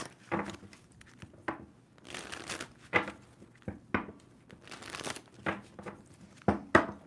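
A tarot deck is shuffled by hand in a series of close, crisp riffling and crinkling bursts, separated by short quiet gaps, with no talking.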